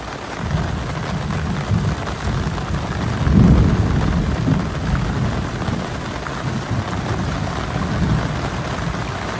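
Thunderstorm with heavy steady rain, a continuous broadband hiss overlaid with a deep rumble of thunder swelling midway, loud and close with no voices.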